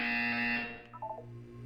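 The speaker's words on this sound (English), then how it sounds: "You will hear a buzzer." A buzzer in the Portal 2 video game sounds as a loud, harsh electronic drone that holds for about half a second and then fades, followed by a few soft tonal blips, with no one speaking.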